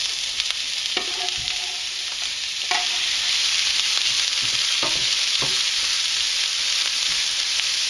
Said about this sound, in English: Now let's get started on frying that up. So we have a nice hot pan. We'll add the onions to the